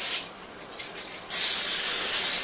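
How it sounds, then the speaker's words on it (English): A short hiss of non-stick cooking spray, preceded by a brief quieter spritz, then a steady continuous spray close to the microphone. "I might even spray it a little with some non-stick"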